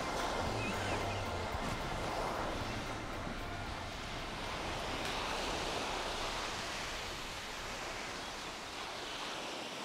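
Sea waves wash onto an English shore at Seatown, a faint, continuous hiss and rumble of surf with wind buffeting the microphone and no distinct voices.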